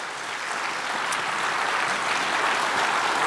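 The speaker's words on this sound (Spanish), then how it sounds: "Denle el aplauso al Señor." A congregation claps steadily and enthusiastically, the dense applause swelling slightly louder toward the end.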